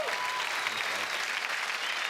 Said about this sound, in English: please give our young guns a big round of applause tonight